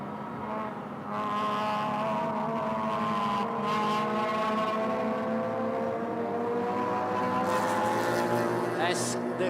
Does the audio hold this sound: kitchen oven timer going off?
no